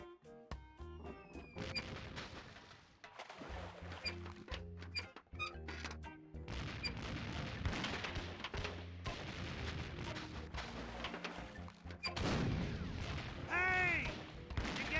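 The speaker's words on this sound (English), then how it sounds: "it's one of those new self-loading cannons I've heard so much about." A self-loading cannon fires in the video game The Curse of Monkey Island: a rapid run of sharp booming blasts and crashing impacts, loud and close, layered over the game's music.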